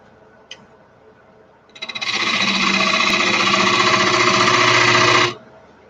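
A wood lathe spins up and turns steadily while a detail gouge cuts the workpiece, giving a loud, sustained buzzing hum that starts after a faint tap, holds for a few seconds, then stops abruptly. Close by, with no talking.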